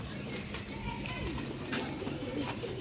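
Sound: pigeons cooing

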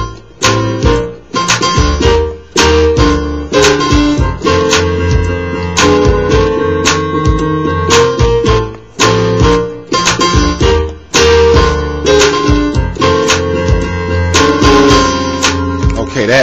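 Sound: a recording

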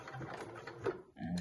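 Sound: sewing machine back stitching with black thread

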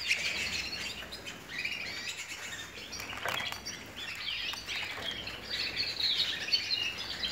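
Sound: pet bird chirping, likely a canary

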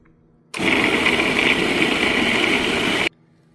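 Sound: mixer grinder blending sliced plantain

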